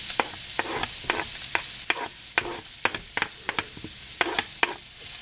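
Chopped onions cook in rendered bacon fat in a pan, a low steady sizzle broken by a regular series of crisp clicks and scrapes from stirring.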